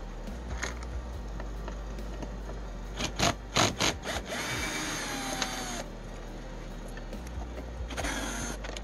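A 5.5 mm wrench and a screwdriver on a MAGWheel controller, giving close, dry metallic scrapes, rubs and a few sharp clicks in short bursts over a low steady hum, with no talking.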